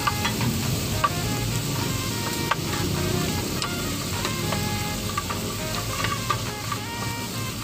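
Baby octopus sizzles steadily in a hot pan with pepper and garlic as it is stirred, a continuous dense frying hiss with faint scraping clicks, close and with no voices.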